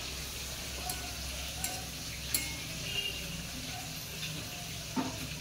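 Whole radhuni seeds sizzling as a tempering in hot oil, a steady low frying hiss heard alone and close, broken by a few soft ticks and clinks from the pan.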